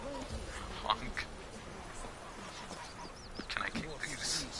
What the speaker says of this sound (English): Goose. Honk. Honk.